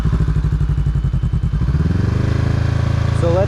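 A motorcycle engine idles with a steady throbbing pulse, then the throttle is blipped as the clutch is eased for a beginner wheelie, the revs rising briefly and smoothly near the mic.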